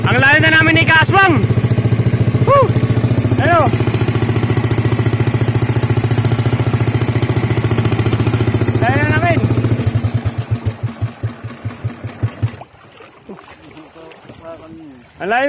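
A small fishing boat's engine runs loud and close with a steady throb, then sputters into slowing individual beats around the ten-second mark and cuts out, leaving wind and water; voices speak over it at times.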